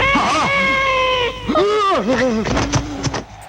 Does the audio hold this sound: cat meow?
yes